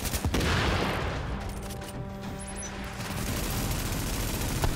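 A turret in the video game The Division fires rapid, dense bursts of gunfire, a loud, sustained volley with sharp crackling shots close by, with no talk over it.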